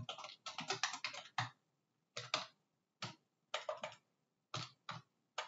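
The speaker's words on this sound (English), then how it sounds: "if I could type" Quiet keystrokes on a computer keyboard come in short bursts of clicking typing separated by brief pauses, close and alone.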